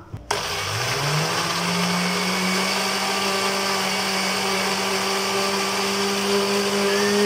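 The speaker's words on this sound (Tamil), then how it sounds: "இப்போ இத மூடி நல்லா blend பண்ணி எடுத்துக்கலாம்" A mixer grinder starts with a thump and spins up into a loud, steady high whine, blending sugar with sunflower oil for an oven-free vanilla cake, running continuously and close.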